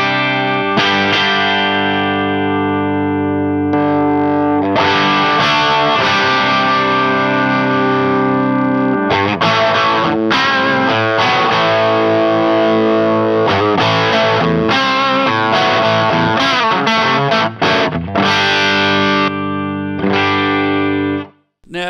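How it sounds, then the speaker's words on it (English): An electric guitar runs through a DryBell Unit67 compressor pedal pushed hard at its plus 10 setting into a real amp, sounding continuous, loud and slightly distorted as chords and notes ring out for about twenty seconds before a sudden stop. "the plus 10 is hitting the compressor harder in the front end, so you get more compression"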